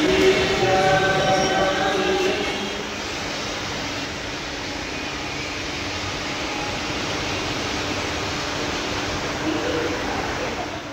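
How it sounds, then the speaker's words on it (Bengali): Inside Mahatma Gandhi Road metro station in Kolkata, a steady broadband roar of a train fills the space, loud and continuous, with faint tonal whines early on. "এখন আমি পৌঁছে গেছি আমাদের মহাত্মা গান্ধী রোড মেট্রো স্টেশনে।"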